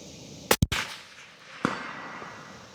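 Two sharp 6.5 Creedmoor rifle shots fired in close succession outdoors at a range, followed by a third, softer report a second later, each with a short decaying tail.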